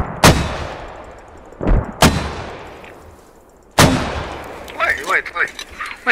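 Mortar barrage in the video game Squad: three heavy booming impacts spaced a couple of seconds apart, each with a long rumbling tail, followed by voices talking.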